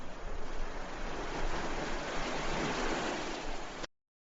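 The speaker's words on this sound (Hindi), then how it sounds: "समुद्र किनारे बसा हुआ था एक छोटा सा गांव, जहां हर सुबह लहरों की गूंज और मछुआरों की पुकार से दिन की शुरुआत" Ocean waves wash onto the shore of a small seaside fishing village, a loud continuous roar of surf and spray that holds steady before cutting off abruptly near the end.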